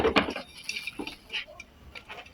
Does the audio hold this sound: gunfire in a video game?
no